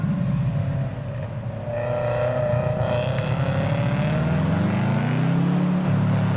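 Subaru rally car at a khanacross event, its engine revving and dropping through gears as it works around the course, moderately close, rising to a sustained high-rev pull at the end.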